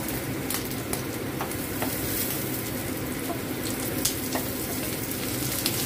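Belly pork frying in a pan, giving a loud, dense, steady sizzle with occasional faint clicks throughout.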